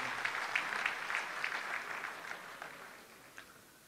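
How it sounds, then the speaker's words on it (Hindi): A room full of people at a poetry gathering in Muscat claps, dense and steady applause heard from a distance, gradually tapering off toward the end. "मैं चाहूँगा इन सब के लिए ज़ोरदार तालियाँ"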